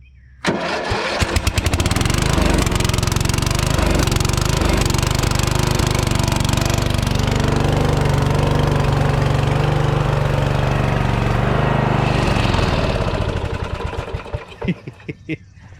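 A swapped small motor fed by a carburetor holding old fuel catches and runs loud and close for several seconds, a rough, sputtering roar that holds steady before sputtering and dying away.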